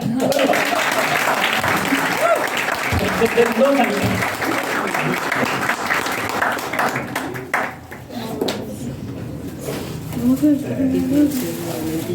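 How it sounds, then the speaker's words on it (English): Applause from participants at a personality and leadership development workshop, a dense steady clapping that holds for most of the stretch, with a voice speaking over it. "we haven't banned the clapping, so you can clap"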